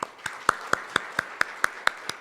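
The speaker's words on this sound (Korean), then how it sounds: "큰 박수로 맞이하여 주시기 바랍니다" Rhythmic hand clapping from an audience welcoming a keynote speaker at a policy forum, about nine evenly spaced sharp claps in just over two seconds, fairly close and clear with no talking.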